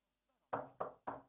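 Three firm knocks on a door in an audiobook reading, evenly spaced and close, each with a short decay, standing alone with no talk over them.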